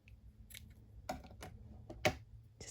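Scissors snip a small scrap of fabric in half during no-sew embellishment crafting, a few short, crisp cuts spaced apart, close and fairly quiet.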